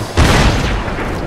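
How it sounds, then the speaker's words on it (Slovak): A booby-trap explosion set off by a bell in Lara Croft and the Temple of Osiris, a loud low boom that hits sharply and rumbles on for about a second. "Zvoničkom sa to aktivuje, ten výbuch."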